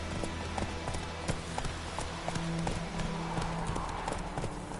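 Roach, the horse in The Witcher 3, gallops in a video game, its soft hoofbeats half buried under a steady bed of game ambience and low hum.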